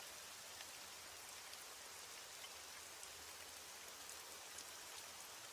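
Steady rain falling at night, a dense, even hiss of drops that continues unbroken and alone at a soft, constant level.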